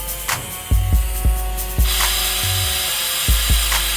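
On a 2000-2005 Mitsubishi Eclipse cooling system, a hand pump pressure tester is worked in a series of sharp, irregular strokes, each giving a close thump and squeak as pressure builds.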